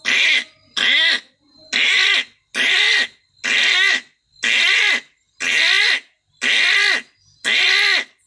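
A man mimics a crow, giving nine harsh, evenly spaced caws in a steady rhythm, each loud and close with a short pause between.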